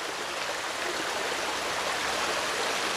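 Steady rushing water of a flowing stream fills the clip, a constant loud hiss with no pauses or voices.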